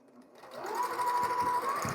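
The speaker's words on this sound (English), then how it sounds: "as I come off the machine with my last series of pieces sewn together here now into rows" A sewing machine stitches quilt pieces into rows, its steady motor hum rising and running continuously up close with faint rhythmic needle clatter.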